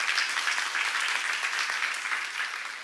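A church congregation applauds during a seminar sermon, a dense, even wash of many hands clapping at once, sustained throughout and tapering slightly toward the end.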